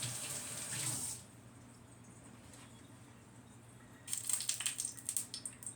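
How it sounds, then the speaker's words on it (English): Water runs from a kitchen sink tap while hands are washed beneath it, a loud splashing stream at first, then a quieter lull, then renewed uneven splashing and spatter toward the end, with no voices. "after I give my hands a little wash"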